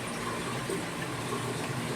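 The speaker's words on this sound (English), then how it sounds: "Some of the water is going all the way back up and back into the tank" Water rushes through fish-room aquarium plumbing and pours back into the tank in a steady, unbroken hiss of flow, close and continuous with no voices.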